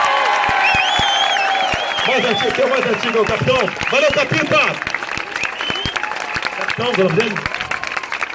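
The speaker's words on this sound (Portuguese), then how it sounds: "Se permite aqui uma salva de palmas para a nossa Polícia Militar aí." A rally crowd gathered in support of a politician applauds and cheers for the military police, with whoops and shouts over the clapping while someone speaks into an amplified microphone throughout.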